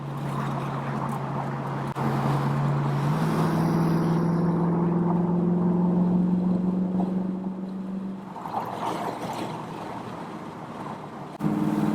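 A 1965 Ford Mustang convertible with a 289 V8 drives in heavy highway traffic, its engine drone rising in pitch as it accelerates, steady under loud wind and road roar.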